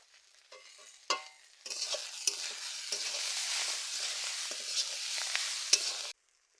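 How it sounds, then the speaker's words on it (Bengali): Sujani greens drop into hot oil and fry in a village kitchen, a sharp crackling sizzle swelling after a few faint clinks and stirring knocks, holding steady and close before cutting off abruptly. "কতগুলো সুজনি শাক দেখো, তেলের উপর দিয়ে দিলাম।"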